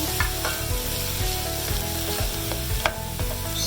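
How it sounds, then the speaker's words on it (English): Onions sautéing in oil in a pan for mutton rolls, a continuous close sizzle with scattered clicks of a spoon against the pan, no voices. "Let that saute down"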